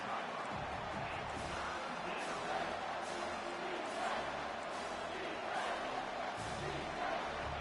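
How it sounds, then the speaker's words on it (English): Stadium crowd roars and cheers on third down at an American football game, a dense, continuous swell of distant voices with rising intensity and no break. "Decibels rising as the crowd gets behind this defense on 3rd down"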